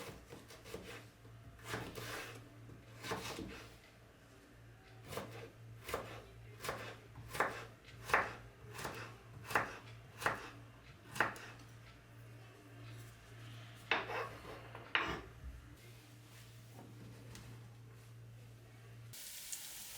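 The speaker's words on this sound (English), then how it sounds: "Dice them into small cubes." A knife dices vegetables into small cubes on a board for an Italian ragù, giving a run of sharp, evenly spaced chops, some close together in quick pairs, over a steady low kitchen hum.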